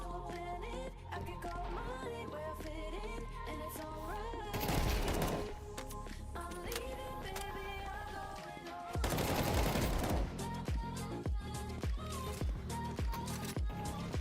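AK rifle gunfire in a video game, rapid automatic bursts and dense clustered shots running throughout with louder volleys midway and near the end, layered over game music and effects.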